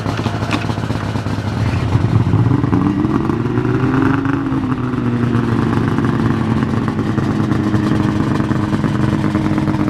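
A 2002 fuel-injected motor vehicle engine revs up steadily and loud, its pitch climbing and then holding at a sustained high drone, close by with no talking.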